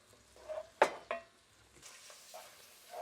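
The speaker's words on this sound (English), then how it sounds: "So we cooked the shrimp into the rendered fat after we seasoned it really good with some Creole seasoning." Shrimp seasoned with Creole seasoning stirred in rendered fat in a pan, soft sizzling with a few sharp utensil scrapes and clinks against the pan, fairly quiet.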